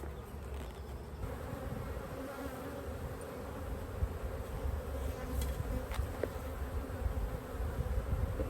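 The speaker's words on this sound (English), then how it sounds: "The bees are getting kind of agitated, which probably means the queen is in this box." Honeybees drone in a steady, dense buzz close by around a hive nuc box, agitated, a constant low hum with a few faint clicks and knocks mixed in.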